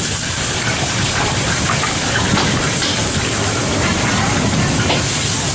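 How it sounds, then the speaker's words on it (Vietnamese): A very hot wok tossing crispy stir-fried noodles with flames at a long-running noodle stall in Go Vap market, Saigon, gives a dense, loud, continuous sizzling hiss with clanks, steady throughout. "Sốc chảo lửa bay"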